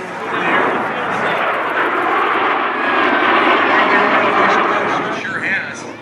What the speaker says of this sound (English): Here's a nice look now heading from east to west. Again, the F-86 F Sabre in the lead. And the Soviet MiG-15.